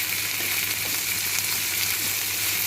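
Chopped tomato and coriander leaves fry in a pan with a little salt for ragi uppittu, giving a steady, close, hissing sizzle that holds evenly throughout, with no talk.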